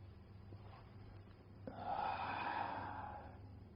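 During a traditional Malay exercise, a single deep breath is drawn in with a soft hiss, swelling and then slowly easing off, faint and close over a low background hum.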